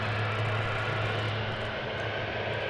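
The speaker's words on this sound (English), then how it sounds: "I hear a plane approaching us." Steady broadband roar of an American Airlines jet approaching at DFW Airport, a continuous loud engine rumble with a low hum that holds level throughout, no talking.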